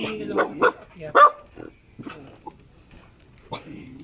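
Two dogs at a house in Cebu City give several short barks and yips, close and loud, mixed with voices of people talking and greeting.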